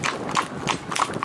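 A horse driven in harness, being retrained to a soft bit, canters with a steady three-beat clip-clop of hooves repeating about every third of a second, fairly close and moderately loud.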